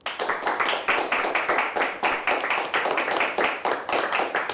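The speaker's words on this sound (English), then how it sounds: "Let's give them a nice round of applause." A studio audience claps for a high school quiz team: a brisk, steady round of hand clapping with rapid overlapping claps, moderately close and continuing without pause.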